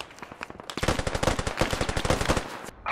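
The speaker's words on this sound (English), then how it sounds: "They're shooting at me." Rapid automatic gunfire in the military shooter game Squad, a steady burst of loud, evenly spaced shots lasting about two seconds, preceded by a few softer pops.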